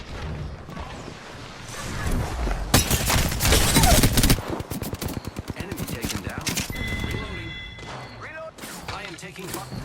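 Gunfire in the shooter Apex Legends: bursts of rapid automatic shots with sharp cracks and impacts, loudest mid-clip, mixed with game effects and character callouts.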